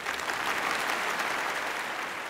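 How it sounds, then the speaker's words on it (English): Sustained applause from an audience at a broadcasting service awards ceremony, steady dense clapping filling the room with no breaks. "You should give yourself a big round of applause."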